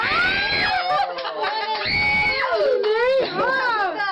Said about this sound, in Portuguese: Quem tá gritando aí? Quem tá gritando?